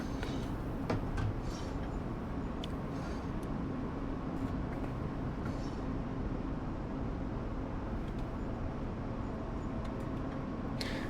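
A train running on the Semmering line in Train Sim World, climbing an incline past historic viaducts: a steady, continuous rumble of wheels and running gear with a few brief clanks and squeaks, even in level throughout.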